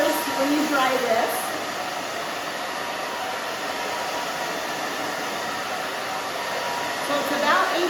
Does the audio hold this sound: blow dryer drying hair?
yes